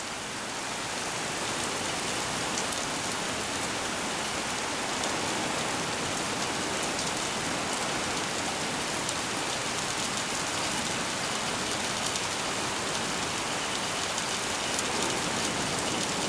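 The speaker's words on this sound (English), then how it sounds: "The atmosphere is filled with rain. A fairly heavy rain." Fairly heavy rain falls steadily over open ocean under a rain cloud, a constant dense hiss that stays at the same level throughout with no gaps, wind or voices.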